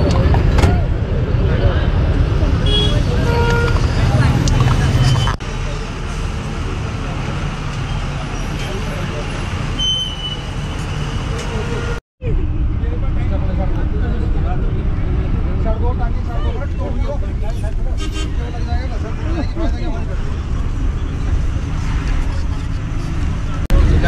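A packed bus stuck in traffic on the Delhi to Kasol route: steady engine rumble and road noise with a constant hubbub of passenger chatter, loud throughout, with a brief dropout midway.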